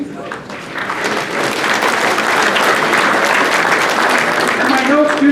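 An audience at a judicial officer awards ceremony applauds an honored judge, a loud, sustained crowd clapping that swells after a short spoken lead-in and carries on for several seconds.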